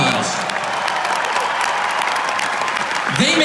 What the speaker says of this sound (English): So please give each and every member of our crew a huge round of applause.